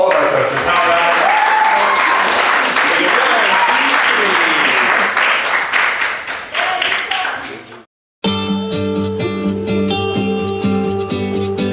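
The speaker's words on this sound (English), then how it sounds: "Let's give a round of applause to all of our toasters" Wedding vow renewal guests at a maritime museum in Annapolis break into loud, sustained applause with cheering for the toasters, which tapers off, stops briefly, and then gives way to upbeat dance music.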